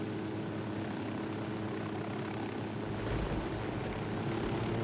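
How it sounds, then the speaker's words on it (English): A helicopter in a video game gives off a steady, even rotor-and-engine drone that holds at constant loudness for the whole stretch, with no talk over it. "we're gonna go for this helo here"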